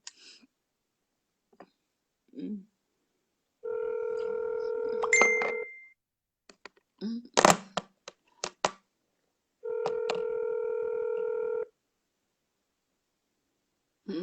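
Telephone ringback tone from an unanswered call: two long steady ringing bursts about two seconds each, separated by silence with scattered clicks and brief noises, nobody picking up.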